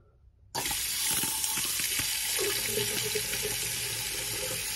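A faucet on a small IKEA bathroom sink is turned on abruptly, releasing a loud, steady rush of running water that splashes into the basin and continues without pause.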